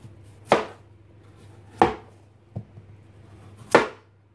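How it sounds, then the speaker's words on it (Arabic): A knife chops through peeled taro on a cutting board in four distinct, sharp strikes spaced unevenly over a few seconds, close and clear in a quiet kitchen. "وبعد كده نبتدي ان احنا نقطعه"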